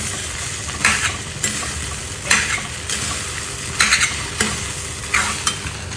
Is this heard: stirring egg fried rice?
yes